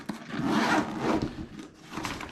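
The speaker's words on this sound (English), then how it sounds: "Along the top, we've got a double zipper." A backpack's double zipper along the top pulled in a couple of quick rasping strokes, close and fairly soft, with a short pause between pulls.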